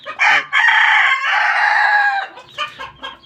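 A hen clucks loudly and close after laying an egg, a short cluck followed by a long drawn-out squawking call, then a few softer clucks.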